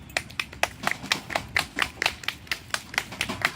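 Rhythmic clapping in a steady beat, a dozen or so sharp claps over a few seconds, with a low murmur underneath.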